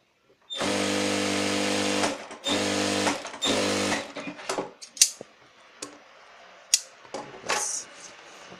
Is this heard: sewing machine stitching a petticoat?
yes